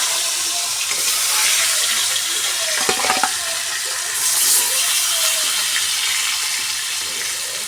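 Turmeric- and salt-rubbed fish frying in leftover eggplant oil in a small wok, a steady hiss and sizzle with some stirring and scraping, moderately close with no talking.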